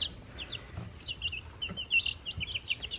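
Young chicks in a brooder cluck and chirp in quick, high, scattered calls, with soft scratching and pecking sounds underneath, close by and fairly quiet.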